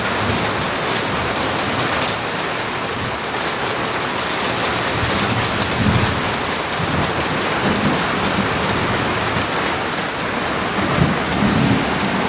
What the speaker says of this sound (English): there's been such amazing thunder and lightning